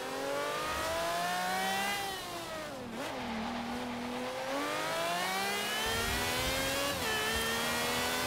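A race car engine in a racing video game revs hard and continuously, pitch sweeping up and down through gear shifts, loud and close with no talking.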